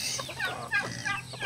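A native chicken on a farm clucks in quick, close bursts, several short calls in an irregular rhythm with faint background noise and no talk.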